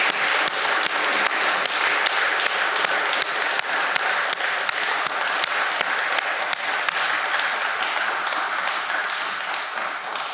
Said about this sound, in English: I ask you to join with me to greet with a big applause our speakers tonight.